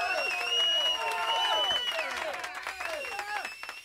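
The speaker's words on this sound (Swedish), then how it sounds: "Applåder!" Applause at the Sveriges Radio Radiosporten award ceremony as the rising-star prize goes to Niklas Westerberg: a steady wash of clapping mixed with cheering voices and tonal music, holding fairly loud throughout before easing slightly near the end.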